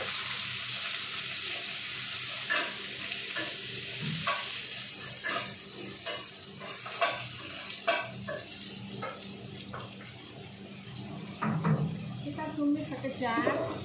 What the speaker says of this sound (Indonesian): Kita tumis dulu ini ya.